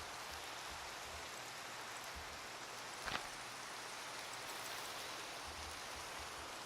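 Rain falls steadily in the video game Minecraft, a constant dense hiss at an even level. A brief soft tap cuts through it partway.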